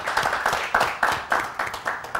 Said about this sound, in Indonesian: Kita beri tepuk tangan Pak pada Pak Alexander